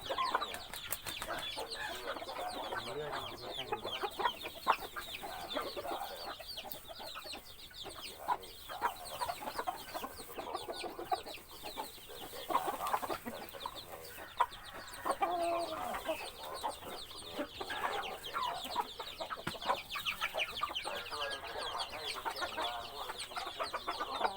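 Young fighting cocks clucking close by, a long run of repeated, irregular clucks and soft calls from more than one bird over a faint outdoor background.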